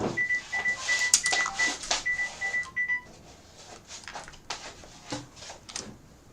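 A phone call alert sounds as a run of short, steady electronic beeps repeating for about three seconds, followed by faint clicks and handling noises.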